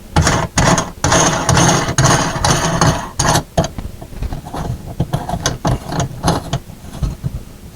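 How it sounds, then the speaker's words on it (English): A nut being screwed onto a sink drain during replacement of a garbage disposal with a standard drain: loud, close ratcheting and clicking bursts of metal or plastic threads turning, in uneven spurts with short pauses. "We're going to take this nut and we're going to screw it on just till it contacts it."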